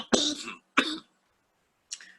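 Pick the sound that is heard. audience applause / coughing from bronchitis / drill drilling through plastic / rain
coughing from bronchitis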